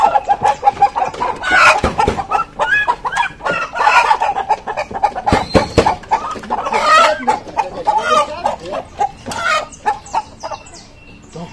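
Índio Gigante chickens clucking and squawking close by in bursts of uneven rhythm, with some louder flapping or handling noises between calls, no speech heard.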